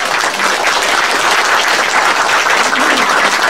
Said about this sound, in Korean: 여러분 멀리서 오셨다고 박수 한번 보내주시기 바랍니다